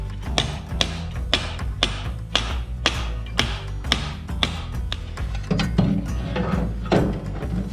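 Hammer blows on the heated steel lower quarter body panel of a Ford Landau Coupe hardtop, a steady series of sharp metallic knocks about every third of a second, close and loud, with heavier clustered strikes toward the end.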